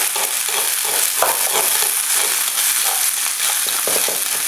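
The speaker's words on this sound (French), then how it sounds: "je mélange bien" A pan sauce of mustard, tomato coulis and white wine is stirred over steady heat, giving continuous close sizzling with soft scraping strokes throughout and no voices.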